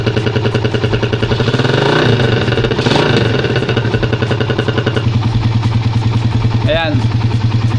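A Suzuki Raider 150 motorcycle engine idles loud and steady through its stock pipe, with a short rev and a sharp squeak near the end, while someone talks over it.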